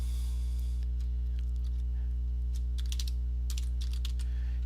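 Clicky keystrokes on a computer keyboard while typing HTML tags, sparse taps and small bursts over a steady loud electrical mains hum, with no talking.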